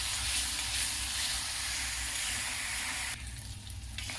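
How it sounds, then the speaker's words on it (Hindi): Masala for a chura and peas breakfast sizzles loudly while frying in oil, a dense steady crackle close by that drops abruptly quieter near the end. "मसाला बिल्कुल अच्छी तरह भून चुका है।"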